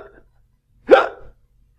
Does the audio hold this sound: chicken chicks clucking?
no